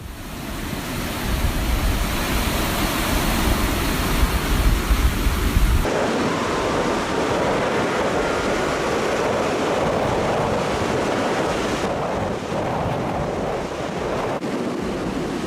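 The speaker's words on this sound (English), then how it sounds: "Would you dare sit on this boat with waves this violent?" Violent storm waves surge around rescue vessels at sea during Storm Gorm off Denmark, a loud, unbroken roar of crashing water mixed with heavy wind buffeting the microphone, with no voices.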